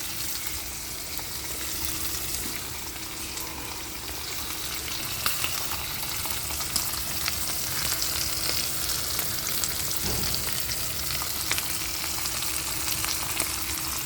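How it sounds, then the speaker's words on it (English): Ribeye steaks frying in a pan over high heat, a steady close crackling sizzle with scattered louder pops throughout and no talk. "these steaks are going. You can hear it."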